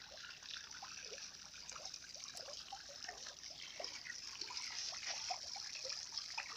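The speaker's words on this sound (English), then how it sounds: "It trickles away every time the sun shines and aerates my fish." Water trickles steadily from a DIY solar-powered fish pond aerator driven by a DC motor and solar panel, a faint, continuous patter of small splashes and drips heard up close.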